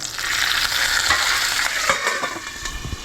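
Curry leaves crackle and sizzle in hot oil in a home kitchen pan for tomato saar, a dense continuous frying hiss with scattered pops, steady and close, no voices.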